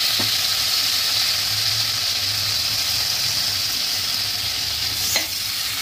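Butter melting in a pan for Mumbai-style pav bhaji gives a steady, even sizzle throughout, with a faint clink near the end and no voices.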